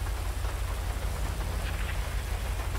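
Steady, dense rain hiss in GTA V, a continuous close wash of droplets with low rumble beneath, heard alone with no talking.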